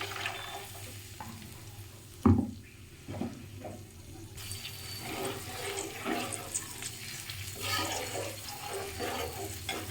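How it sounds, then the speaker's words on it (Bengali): Water goes into a pan of hilsa cooking in mustard oil with onion paste. A sharp splash and hiss lands early, then a steady bubbling, sizzling wash continues close by. "এই যে জল দিয়ে দিলাম এখন"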